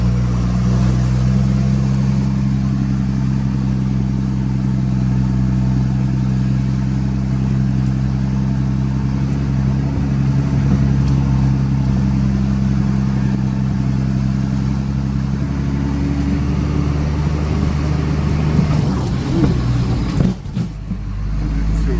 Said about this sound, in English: It's a great old truck. It's got a 3116 cat motor.